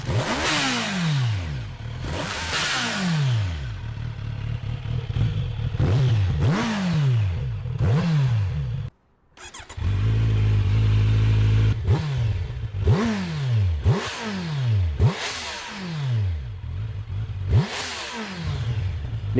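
A Kawasaki Z900 motorcycle engine revs repeatedly in loud, throaty bursts with a guttural, carbureted rasp, briefly cutting out before settling into a rough idle and revving again.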